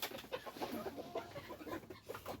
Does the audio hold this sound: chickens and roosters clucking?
yes